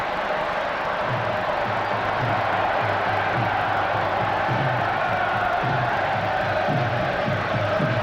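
A stadium crowd cheers and chants at an England v South Africa international friendly football match in 1997, a steady, loud roar with rhythmic chanting pulses running throughout.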